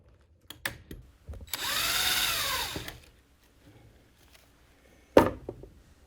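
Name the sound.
power drill with self-centering bit drilling pilot holes in wood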